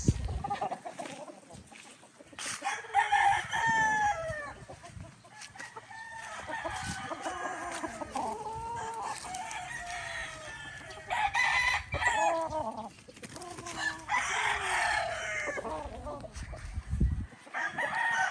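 Bulik gamefowl roosters crow repeatedly on a game farm, the long calls overlapping with scattered clucking from nearby birds, with someone talking now and then.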